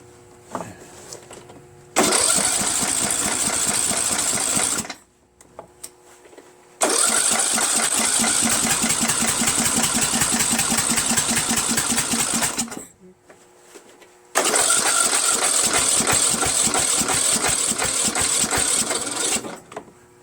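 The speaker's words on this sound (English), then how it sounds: "Got a Tecumseh lawnmower engine" A Tecumseh lawn mower engine, fitted to a Troy-Bilt lawn tractor, is cranked by its starter in three long, loud whirring bursts of several seconds each, separated by short pauses, without catching.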